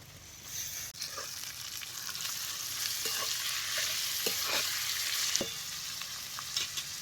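Chopped tomatoes fry with onion in hot oil for a village-style chicken masala, giving a steady close sizzle with a few scraping stirs and clicks and no talking.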